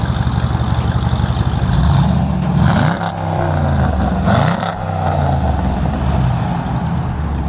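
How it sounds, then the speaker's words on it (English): SRT Jeep Grand Cherokee with cat and muffler delete roaring loudly at close range, a deep, raspy exhaust drone that surges as it accelerates hard, rising and falling with the throttle. "get next to me and floor it so I can have it on the camera"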